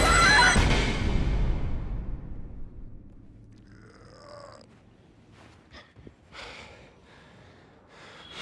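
A horse whinnies loudly up front, a long descending neigh, followed by softer snorts and breathy sounds at a distance.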